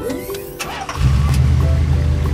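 A classic car's engine starts, with a short cranking lead-in giving way to a steady low idle rumble that continues to the end.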